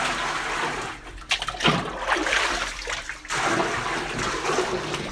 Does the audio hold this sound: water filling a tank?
yes